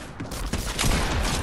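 Sniper gunfire in the Fortnite video game sounds as quick, overlapping shots in a short burst, each hit rising sharply over the game noise.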